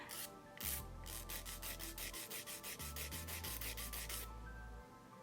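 A nail file rasps back and forth across bitten fingernails while they are squared and shortened, a steady run of close, rhythmic scraping strokes with short pauses and no talk.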